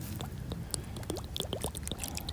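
Water glugs and trickles out of an old glass bottle just dug from a bottle dump in Fife, Scotland, with a few quick bubbling gurgles over a faint outdoor background, close by and fairly quiet.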